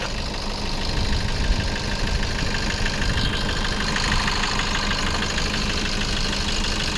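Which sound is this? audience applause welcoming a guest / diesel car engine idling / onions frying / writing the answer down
diesel car engine idling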